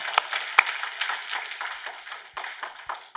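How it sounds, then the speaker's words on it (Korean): A church congregation applauds at a Friday night service with dense, steady hand clapping that stays fairly even and close for the whole stretch, with no talk over it. "오늘 응답 주시는 우리 하나님께 박수를 영광 돌립니다"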